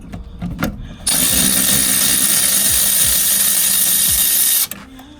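A power tool, likely an impact wrench, spins out a 13mm caliper bolt on a Renault rear brake, giving one loud, steady whirring burst of about three and a half seconds with brief clatter before and after.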